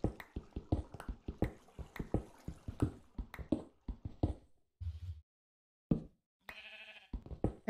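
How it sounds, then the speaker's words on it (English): Sheep bleating in the Minecraft video game: a run of short, clipped bleats and pops repeating in quick succession, fairly close, with a few brief gaps and a low thud partway through, no talking over them. "I hear sheep."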